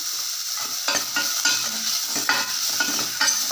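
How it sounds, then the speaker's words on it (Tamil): Oil sizzles steadily in a pan as onions fry with turmeric for rasam, with a spoon scraping and stirring in short bursts every second or so. "வெங்காயம் எண்ணெயில் கொஞ்சம் வேகட்டும்"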